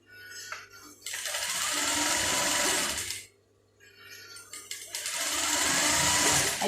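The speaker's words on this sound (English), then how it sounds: "I tack it and sew." Juki high-speed industrial sewing machine stitching black fabric in two loud, close, sustained bursts of rapid whirring separated by a brief pause.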